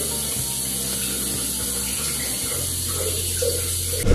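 Tap water runs steadily into a sink while cleanser is rinsed off during a nighttime travel skincare routine, a continuous close hiss with faint clicks and knocks.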